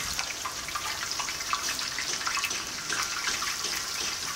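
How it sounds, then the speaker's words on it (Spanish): Pork meat dropped into hot lard in a frying disc, giving a steady loud sizzle and crackle that fills the whole stretch without talk. "Vamos a echar la carne."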